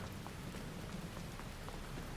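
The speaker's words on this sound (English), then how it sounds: "Get in from the rain." Steady rain in the Farming Simulator 22 video game, a soft, even hiss of falling drops with faint pattering, continuous and distant throughout.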